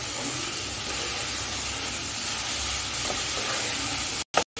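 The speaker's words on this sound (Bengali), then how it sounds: "এখন আমি আলমন্ড আর কাজুটা দিয়ে দিচ্ছি। দিয়ে আবার 2 মিনিটের মতো ভেজে নিচ্ছি।" Almonds and cashews fry in a pan for pineapple halwa, giving a steady dense sizzle and hiss that runs unbroken before two brief clattering dropouts near the end.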